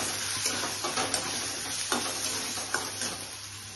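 Cumin and turmeric powder sizzle and fry in a pan for a paneer curry, with steady crackling broken by several distinct scrapes and stirs of a utensil across the pan.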